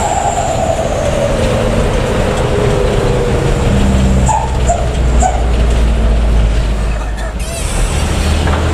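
A few short dog barks sound in the middle, partly buried under a loud rumbling engine and people talking nearby.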